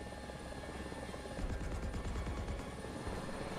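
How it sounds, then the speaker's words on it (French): Steady rotor thrum of a Ka-52 attack helicopter in the War Thunder game, a constant engine drone that swells slightly partway through, heard alone with no talk. "un hélico d'attaque, les gars"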